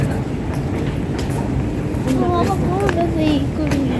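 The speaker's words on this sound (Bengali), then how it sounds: "অনেক ধাপ মাটির নিচে চলে এসেছে আমরা এখন মেট্রো ট্রেন দিয়ে ঘুরতে যাচ্ছি সবাই মিলে" An underground metro train in Malaysia rumbles steadily with a low, continuous roar, while people talk nearby over the noise.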